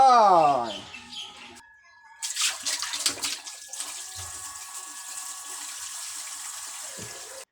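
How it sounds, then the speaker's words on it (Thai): Climbing perch being washed in water: after a brief tonal call, splashing and sloshing bursts close by give way to a steady running-water wash that fades near the end. "อาปลามาล้างนะครับ"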